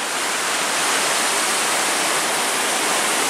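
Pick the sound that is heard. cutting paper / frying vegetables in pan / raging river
raging river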